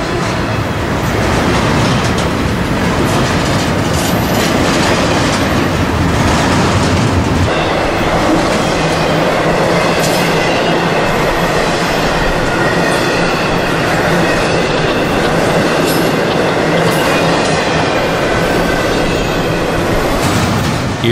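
A long freight train with three locomotives, one a mid-train remote unit, rolls steadily past up close, a loud continuous rumble with clattering wagons and faint wheel squeal throughout.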